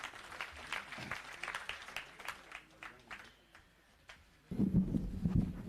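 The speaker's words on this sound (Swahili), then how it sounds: "Tumpigie makofi." At a political gathering with musicians in Murang'a County, Kenya, someone speaks to the audience and then a crowd breaks into loud, sustained clapping near the end.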